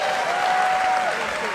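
A wrestling crowd applauds and cheers Rey Mysterio during his match with Alberto El Patron, a steady dense wash of clapping that fills the whole moment, with a faint tonal whistle riding over it.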